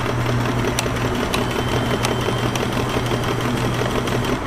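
A Kenmore 1410 sewing machine runs steadily, sewing a stitch with a continuous close mechanical whir and a regular fast ticking rhythm throughout, no talking.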